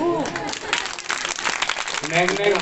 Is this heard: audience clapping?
yes